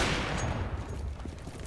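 An AWP sniper rifle fires in Counter-Strike: Global Offensive, a single sharp, loud report whose tail fades over the following second or so.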